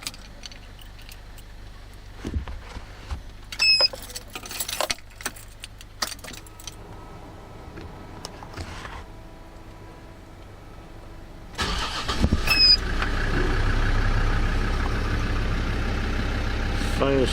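Keys jangle and clatter in short bursts, followed by the Land Rover Discovery 2 TD5 diesel engine cranking and firing up, then settling into a steady, rough idle close by.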